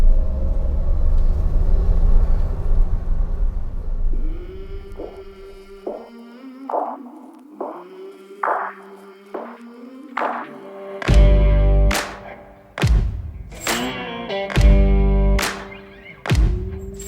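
A 1977 Toyota Land Cruiser FJ40 in first gear climbing a hill, its engine rumbling low at first, then revving in a rising series of pulsing throttle blips that become sharp, loud bursts toward the end.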